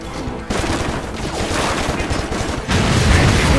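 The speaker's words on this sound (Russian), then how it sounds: "Сочный взрывчик." An explosion and rapid gunfire from the video game Stranglehold form a loud, dense barrage that jumps up at half a second and again near 2.7 seconds, continuing without pause.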